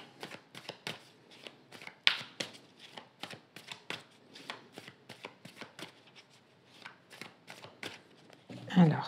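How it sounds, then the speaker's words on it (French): Tarot cards being cut and drawn by hand for a reading: a steady run of crisp, close flicks and snaps of card stock, with a louder rustling slap near the end. "vais faire une coupe et je vais prendre 3 cartes"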